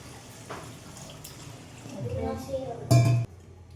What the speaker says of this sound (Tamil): இப்போ சிக்கன் கிரேவிக்கு தேவையான அளவு வந்து தண்ணி சேர்த்துக்கிறேன்